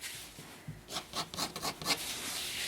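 A pen inks fine grass strokes on paper, giving quiet, close scratchy rubbing in a quick series of short strokes.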